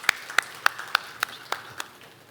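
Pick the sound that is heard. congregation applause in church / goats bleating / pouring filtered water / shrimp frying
congregation applause in church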